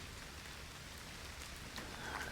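Rain falls outdoors near a leafy hillside: a faint, steady, even hiss of drops with no voices.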